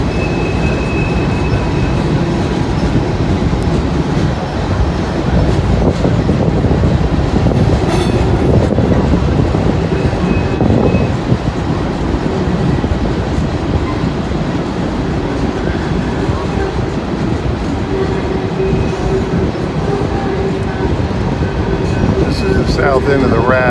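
Train rolling steadily past at close range at a rail yard approach, a continuous loud rumble with wheel clatter and occasional metallic squeals throughout, with people talking over it.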